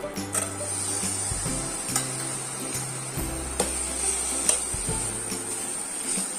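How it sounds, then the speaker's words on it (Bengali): Onion frying in a pan as chopped tomato goes in makes a soft sizzle under repeated stirring scrapes and light utensil clinks, all fairly quiet and close. "পেঁয়াজটা ভাজা হয়ে এসছে। এইবারে এতে টমেটো কুচিটা দিয়ে দেব।"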